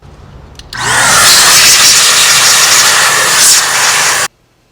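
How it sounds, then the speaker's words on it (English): A vacuum cleaner switches on with a roar and runs steadily for a few seconds while it cleans out the inside of a disassembled Breville Barista Express BES870 espresso machine, then cuts off abruptly. "use your vacuum cleaner to clean everything out."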